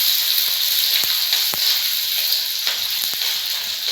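Sliced onions fry in hot oil for a village-style chicken curry, a bright steady sizzle and hiss up close with occasional sharp crackles and pops, no voices.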